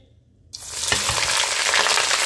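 White cabbage tipped into hot olive oil in a pot, bursting into a loud, steady sizzle after a quiet moment and continuing alone at full intensity, with a brief stirring clatter near the start.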